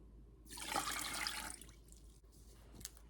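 Water pours in a steady rushing splash for about a second while apples are being canned, then trails off into faint drips and small kitchen noises.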